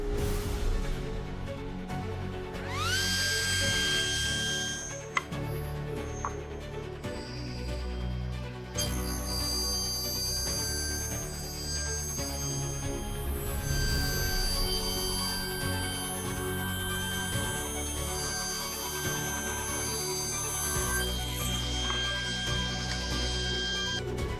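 A saw spins up with a rising whine and makes 2-inch cuts through wood for cutting boards. Dense, continuous cutting noise with ringing tones carries on loudly and without talk.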